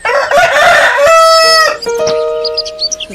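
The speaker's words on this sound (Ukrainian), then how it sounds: "півник гордо виступає, на все горло він горлає" A rooster crows loudly and close, one long cock-a-doodle-doo followed by a second shorter crow and a few clucks.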